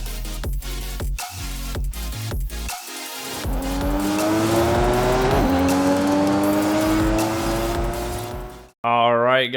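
Engine of a 250-horsepower 1992 Nissan Silvia S13 Club KS drift build in Forza Horizon 5, rising in a long steady rev with tire squeal, under spoken commentary, cutting off abruptly near the end.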